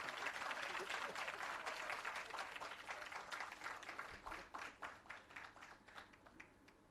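Audience applause at an employee service awards ceremony, a full, sustained wash of many hands clapping that gradually thins into scattered, distinct claps toward the end, heard fairly far off and faint.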